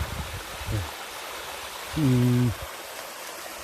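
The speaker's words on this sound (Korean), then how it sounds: "싱그러운 계곡 물소리와" A mountain valley stream cascades down like a small waterfall, giving a steady, full rushing hiss throughout. A voice briefly murmurs over the water.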